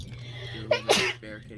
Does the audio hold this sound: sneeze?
yes